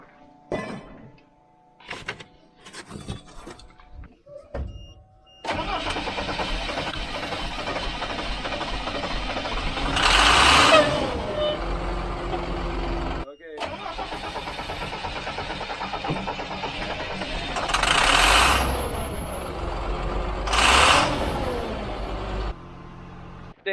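A truck engine idles and runs at close range with a steady rumble, with brief surges in loudness and a short break midway, after a few scattered knocks and bumps at the start.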